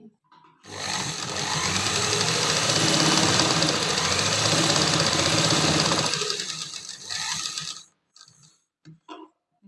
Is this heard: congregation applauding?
no